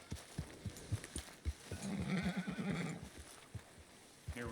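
A horse in Red Dead Redemption 2 gives a loud, wavering whinny in the middle, framed by soft clip-clop hoofbeats and snorts close by.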